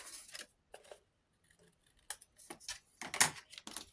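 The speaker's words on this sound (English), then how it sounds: "Cut the white bits off" Scissors snip off white bits of paper in a series of short, crisp cuts, quiet and close, with irregular pauses and a louder flurry of snips near the end; no one speaks.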